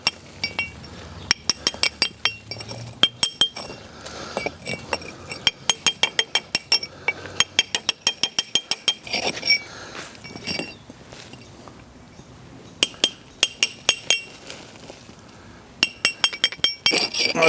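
Hard mortar and brick are chipped out of a masonry joint during historic repair work, producing rapid bursts of bright metallic tapping and clinking in quick runs, separated by short pauses.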